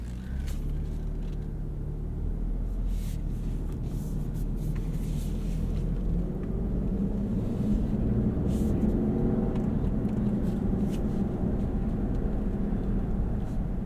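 A 2024 Lexus GX 550 with a 3.4-liter twin-turbo engine cruises on the road, a steady low engine hum and road rumble from inside the cabin, with occasional light clicks and ticks.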